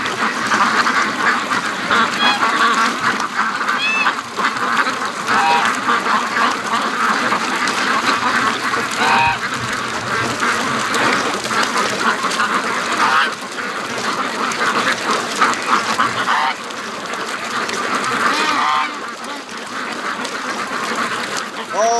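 Free-range Muscovy ducks at an icy, slushy lake give repeated calls through a long stretch of outdoor noise, with a person talking at times over the birds.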